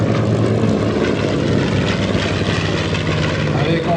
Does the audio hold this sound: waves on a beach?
no